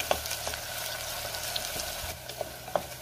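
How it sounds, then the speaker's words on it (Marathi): Ginger garlic paste frying with onion in a pan, a quiet steady sizzle with occasional soft spoon clicks and stirring scrapes, heard close with no voices. "आता आपल्याला यामध्ये आलं लसणाची पेस्ट घालायची आणि पुन्हा 1 मिनिटभर चांगलं परतून घ्यायचंय"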